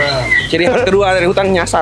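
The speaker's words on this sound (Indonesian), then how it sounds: "itu burung kut-kut" Zebra dove cooing in a forest near an aviary, soft repeated coos close by under someone talking.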